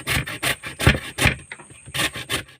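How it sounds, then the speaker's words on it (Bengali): Raw potato grated by hand, each stroke a rough rasping scrape, in an uneven run of about eight strokes with a short pause before the last few. Close and fairly loud, with no voices. "আমি প্রথমে এরকম করে ঘষে নেব।"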